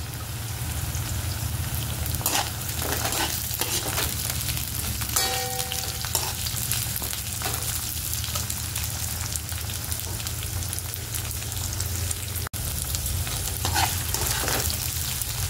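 Green beans stir-fry in a pan with softened onion for fried rice, giving a steady dense sizzle and crackle with occasional scraping stirs, close and continuous.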